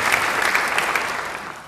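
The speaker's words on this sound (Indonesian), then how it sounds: "Beri tepuk tangan yang baik bagi dia." Audience applause at a church sermon, a dense steady wash of many hands clapping alone, without voices, fading slightly toward the end.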